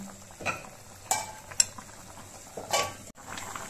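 A spoon stirring chital fish curry in a pot, with several separate scraping strokes against the metal over a faint simmer, close and alone.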